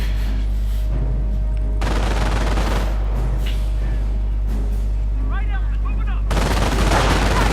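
Rapid machine gun bursts and scattered gunfire in a Company of Heroes battle with a sniper and MG team, coming in dense clusters under a commentator's continuous voice.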